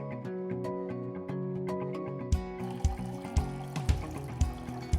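Water poured into a pot with two tablespoons of flaxseed, about two cups, ready for boiling; a soft pouring trickle starts midway and runs over steady tonal music.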